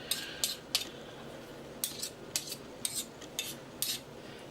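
A metal fork scraping thick homemade soy yogurt out of an Instant Pot's inner pot, a series of about ten sharp scrapes and clinks in uneven bursts, close by, with no talk.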